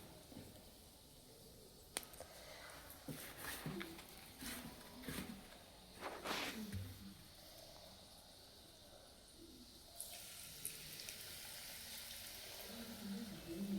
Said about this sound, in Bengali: এবার আমি এই যে গরম তেলের মধ্যে ভাজতে দিয়ে দিলাম